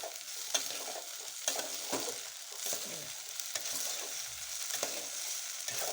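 Okra frying in a pan for bhendi palya is stirred steadily, a soft crackling sizzle broken by repeated scraping strokes of a spoon, close and alone.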